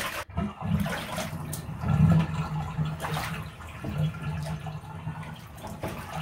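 Water streams steadily from a tap or shower sprayer while dye is rinsed out of a hair weave, a continuous splashing hiss with a brief surge, close by and with no talking.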